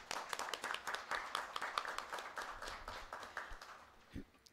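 Applause ringing out in a municipal council chamber during an ordinary session, dense overlapping hand claps sustained for several seconds before tapering off, moderately near and fairly loud.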